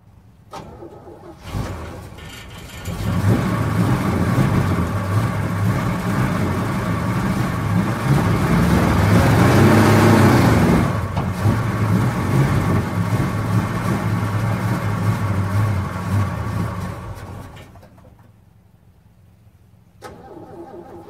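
A 1953 Chevy pickup, off the road for 26 years, cranks and fires up, then runs loud and rough for about fifteen seconds with a brief rev in the middle before dying away, with quiet moments at either end.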